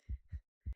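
In an indie video game, a heartbeat effect gives two deep, muffled thumps, a short pause, then another beat, close and soft.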